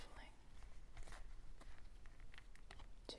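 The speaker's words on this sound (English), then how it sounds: "I'm doing some shuffling" Tarot cards are shuffled close up and quietly, giving soft papery rustles and crisp little flicks that come in uneven bursts. The setting is calm and hushed, with no talking.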